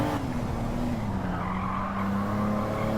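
A Mitsubishi GTO's tires squeal and slide under power oversteer in Gran Turismo 7, a sustained screech riding over the loud engine drone as the car powers through a turn, steady and close for about three seconds.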